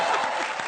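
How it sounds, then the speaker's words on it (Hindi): Studio audience at a TV comedy show breaks into a quick, dense burst of applause, loud and even throughout a fraction of a second, with a hint of crowd voices underneath. "तालियां।"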